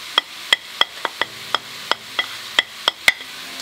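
Bacon with its rind on and garlic cooking in a pot for braised sauerkraut, with a steady series of sharp, evenly spaced clicks and taps of a utensil against the pot over a soft low sizzle, close and clear.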